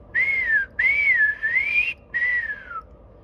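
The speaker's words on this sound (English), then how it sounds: "You can always whistle." Whistling captured by a homemade electronic stethoscope, three clear melodic phrases with gliding pitch and short gaps between, loud and close over a quiet background hum.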